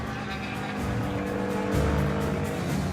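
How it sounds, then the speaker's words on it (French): Aprilia racing motorcycle with a brand-new engine roaring as it's pushed hard into a corner, a sustained throaty drone that swells slightly midway, fairly loud and continuous without speech. "Son tout nouveau moteur émet un rugissement de protestation."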